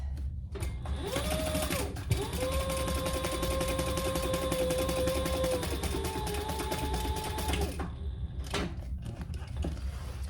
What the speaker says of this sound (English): And I back stitched a couple times there.